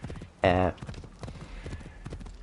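Horse hooves clip-clop in a rapid, steady rhythm in a video game, with a short loud burst early on, all running under continuous talking from a man.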